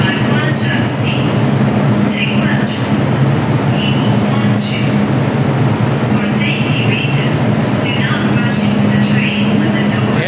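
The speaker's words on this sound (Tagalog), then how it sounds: "So sasakay tayo sa next train." Hong Kong MTR subway train on the red Tsuen Wan line standing at a station platform, a steady loud rumble and hum with passengers chattering throughout.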